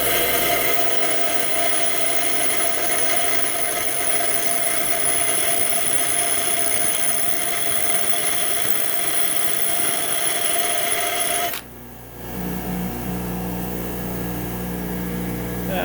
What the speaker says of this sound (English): So now I'm just going to taper this edge so it's not so fat there